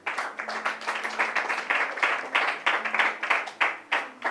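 A church congregation applauding during a Bible teaching, steady, dense clapping that pulses in quick bursts across the whole stretch, fairly close and without speech.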